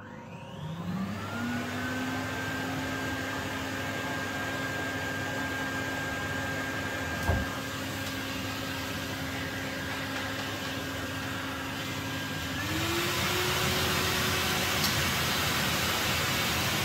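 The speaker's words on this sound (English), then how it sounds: "Henry vacuum cleaner." A Henry vacuum cleaner runs steadily with a droning motor whine, close and loud; partway through its pitch steps up and the roar grows slightly louder.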